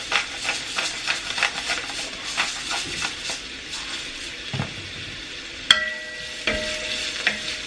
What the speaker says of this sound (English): I'm just going to saute these for a few minutes.